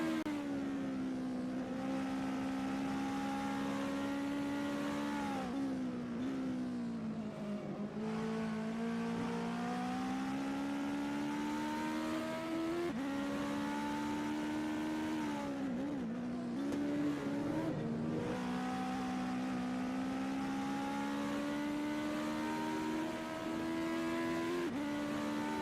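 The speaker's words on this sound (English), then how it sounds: "Anne-Rose Stadler crosses the start-finish line at the end of their outlap." A race car on an outlap during a legends cup race, its engine droning steadily and close through the run, with a few dips and rises in pitch as it lifts off and accelerates through corners, no voices heard.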